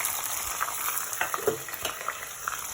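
Garlic frying in hot oil alongside tomato and dry chilli, a soft steady sizzle with scattered small pops and light utensil clicks, close by.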